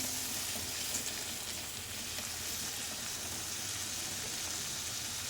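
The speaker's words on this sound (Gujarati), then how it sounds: "બરાબર મિક્સ કરી અને ટામેટાને પણ એકદમ સોફ્ટ થાય ત્યાં સુધી શેકી લઈશું" Chopped tomatoes and sautéed onions frying in a pan for sambar: a dense, continuous close sizzle, even and unbroken throughout, with no voices.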